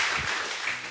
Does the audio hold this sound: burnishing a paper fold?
no